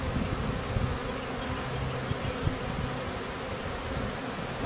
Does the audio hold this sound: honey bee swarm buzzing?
yes